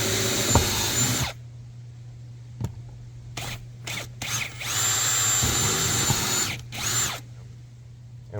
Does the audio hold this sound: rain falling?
no